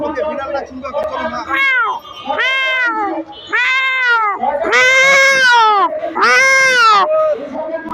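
A man imitates a cat, producing a run of loud, close, drawn-out meows with rising and falling pitch, about six calls in quick succession.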